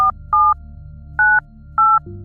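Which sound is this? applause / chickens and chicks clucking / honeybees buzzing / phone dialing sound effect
phone dialing sound effect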